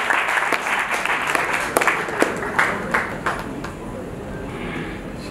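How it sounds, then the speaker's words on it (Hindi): Audience applause fills a hall at a Hindi poets' honour ceremony, a dense, loud wash of many hands clapping with a few sharper claps standing out before it thins and softens toward the end. "एक बार बड़ी तालियों के साथ"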